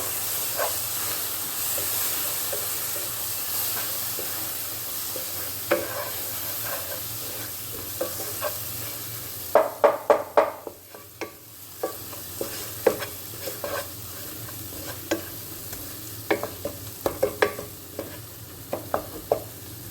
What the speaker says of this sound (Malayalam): അത് അതിലേക്ക് ചേർത്ത് കൊടുക്കാം നന്നായി ഇളക്കി